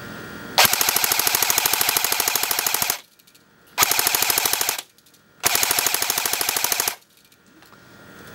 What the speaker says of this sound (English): And there's the full auto of the STG.